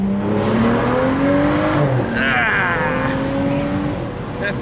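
Tuned BMW engine accelerating hard with rising harmonic revs, a gear change mid-pull and wind rush, loud and close from inside the car.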